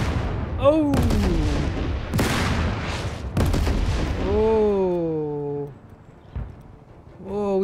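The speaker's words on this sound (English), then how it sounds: "there's artillery right here, big time" Booming artillery fire from the Total Tank Generals tank war game, several loud blasts in quick succession mixed with other battle effects and tonal sounds.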